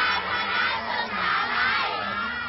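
A cheering squad of young team supporters shouts loudly in unison at a Honda 31-legged team race, a sustained, massed roar of voices that stays strong and swells slightly over a couple of seconds.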